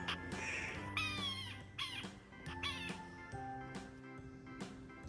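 Several cartoonish cat meows, three or four rising-falling calls in quick succession, loud and close over a soft musical backing.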